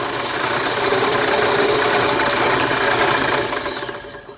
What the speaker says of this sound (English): Stop sanding, raise it up.